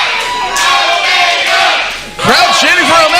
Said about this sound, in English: Crowd chanting for Omega.